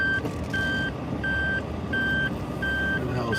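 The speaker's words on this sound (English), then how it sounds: "Hear the car beeping way on the side" Reversing vehicle's backup alarm beeping in a steady repeated pattern, five or so evenly spaced beeps over street crowd noise during a large outdoor rally in Japan.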